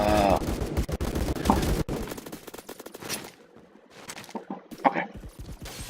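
A grease gun fires in the Phantom Forces video game, rapid bursts of automatic gunfire dense at first, then scattered shorter bursts and shots with gaps between.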